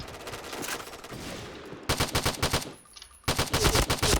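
Ultimax machine gun fire in the Point Blank shooter game, loud rapid bursts of automatic shots in tight rhythmic strings separated by a brief lull, close and dominant with no talking.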